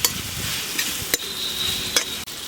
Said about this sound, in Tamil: இந்த தேங்காய் எண்ணெயிலே நல்லா வதக்கி விட்டுறேன்னா